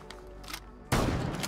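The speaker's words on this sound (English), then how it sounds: "here we have the smoke shotgun" A smoke shotgun fires in the Rainbow Six Siege video game: a single loud, sudden blast with a brief rumbling tail follows quieter background game sounds.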